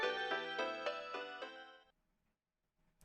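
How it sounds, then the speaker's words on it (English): A mobile phone ringtone for an incoming call in Steins;Gate 0 plays a bright, repeating melodic chime of several evenly spaced tones, then stops, leaving near silence. "There's an incoming call on my phone."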